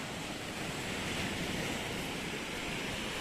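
Sea waves roll onto a Bulgarian Black Sea beach near Obzor, a constant loud wash of surf with wind buffeting the microphone throughout.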